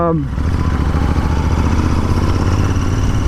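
Royal Enfield Interceptor 650 motorcycle fitted with an AEW exhaust and dB killers, heard loud and close. It starts up, then settles into a steady, throaty twin-cylinder idle.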